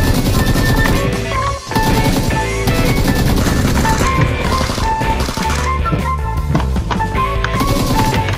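Rapid automatic gunfire from a weapon in the mobile shooter PUBG Lite rattles in loud, dense bursts alongside game music and effects, continuing almost without pause.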